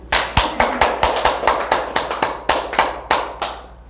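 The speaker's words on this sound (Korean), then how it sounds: "박수." A church congregation claps in a steady rhythmic beat, about a dozen sharp, close hand claps at a regular pace, fairly loud with no talk over them.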